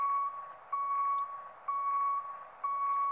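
A steady electronic reversing beep from a Renault C truck in Cargo Transport Simulator, repeating about once a second, loud and even, with a faint engine hum beneath and no talking.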